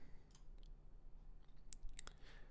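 A computer mouse clicks Save in a Google AdWords budget screen: a few faint, sharp clicks close by, with a quick pair near the end over a quiet background.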